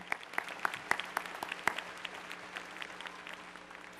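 Graduates at the 2009 University of Oregon spring commencement clap in a sparse, scattered burst, with individual sharp claps standing out near the start before the applause thins into a steady patter.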